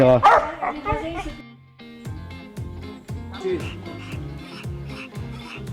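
A dog barks and yips in short repeated bursts over a steady musical background, with a voice speaking at the start.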